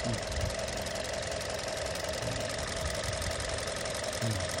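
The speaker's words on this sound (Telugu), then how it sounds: "మనం ఇందాక నుంచి ఇంజిన్ ఐడిల్లో రన్ పెట్టి చేస్తూనే ఉన్నాం." A Kia Seltos car engine idles steadily and close by, with a constant mechanical hum and a faint knocking tick running all the way through. A few low murmurs of voices sit faintly in the background.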